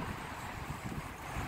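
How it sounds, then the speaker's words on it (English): Wind blows outdoors during a snowstorm near the World Trade Center, a steady, close rush of gusty noise buffeting the microphone, with no voices. "windy today."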